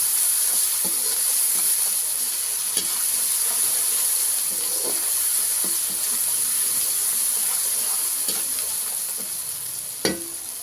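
Ginger garlic paste sizzles steadily in a hot pan while cooking a bottle gourd and dry prawn curry, with a continuous frying hiss and occasional soft clicks of stirring.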